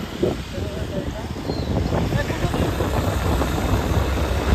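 A red Maharashtra state transport bus (Lalpari) idles on a street in Pune, giving a steady low engine rumble with wind buffeting the microphone and voices faintly underneath.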